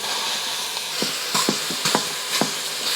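Slightly frozen sausage sizzles in a pot with a loud, steady hiss, broken by several sharp stirring scrapes and knocks close by, with no one talking.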